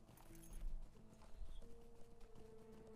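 Horse hooves clop in a steady walking rhythm while riding in Lord of the Rings Online, faint under a bed of game music.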